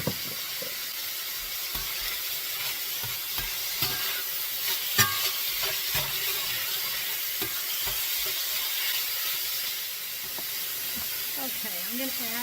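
Pork browning in a frying pan for moo shu pork, a steady close sizzle and hiss with occasional scraping clicks from stirring throughout.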